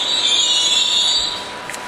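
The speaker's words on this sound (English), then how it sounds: "That is not my train." A train on a busy city railway in Norway rolls along the track with a steady high-pitched wheel squeal and rumble, fairly near and loud for most of the stretch before easing off slightly at the end.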